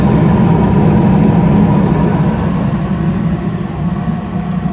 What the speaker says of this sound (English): Blower's on, everything's working